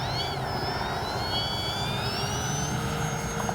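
A Kavan Pilatus PC-6 Porter RC plane taking off from grass, its electric motor giving a steady, loud whine with tones sliding up and down as the throttle shifts over a continuous rushing noise.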